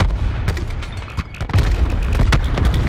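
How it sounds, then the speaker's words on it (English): Grenade launcher rounds exploding in Call of Duty Black Ops 4, a loud rapid series of booming blasts and gunfire bursts packed close together across the whole clip, with no talk over them. "I'm gonna grenade launcher this shit."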